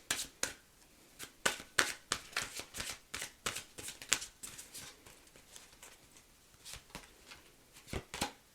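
Tarot cards are shuffled by hand, giving repeated soft riffling slaps and flutters in quick, uneven bursts. The sound is close and quiet, with no talking.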